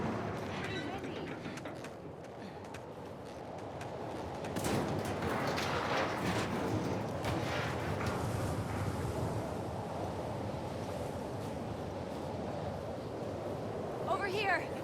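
Wind blows hard in stormy weather in The Last of Us Part II, a constant loud rushing roar with gusts that swell after a few seconds and stay strong to the end.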